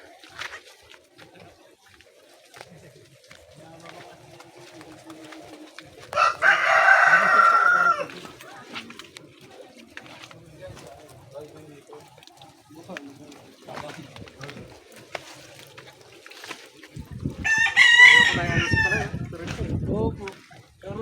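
A rooster crows twice on a rural fishpond property, a loud nearby burst and a later one, with scattered chicken clucks and someone talking between them.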